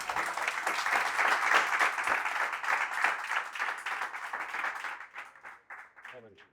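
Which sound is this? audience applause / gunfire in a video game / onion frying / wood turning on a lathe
audience applause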